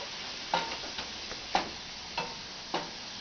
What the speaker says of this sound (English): you saute this, let that brown up